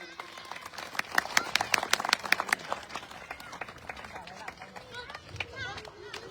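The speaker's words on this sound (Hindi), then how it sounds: "जोरदार तालियों के साथ स्वागत करेंगे" Audience at a satsang gathering claps in welcome of the guru, a dense burst of handclaps peaking early then thinning into scattered claps and crowd murmur over several seconds.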